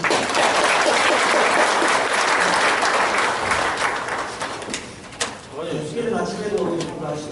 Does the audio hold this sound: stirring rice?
no